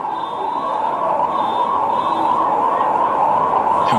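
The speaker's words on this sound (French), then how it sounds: "Et on entend autour de la pelouse les sirènes." Emergency sirens wail outside a football stadium during a Congo versus Senegal World Cup qualifier, a loud continuous rising-and-falling tone that runs steadily throughout.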